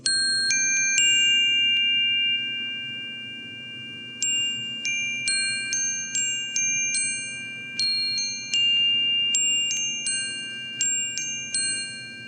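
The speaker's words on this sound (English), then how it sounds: "these are just chimes that they're kind of on this block with this little black string" Metal chimes struck one after another ring out in clear, bright tones, some sustaining and overlapping, others cut short, with a soft hum beneath.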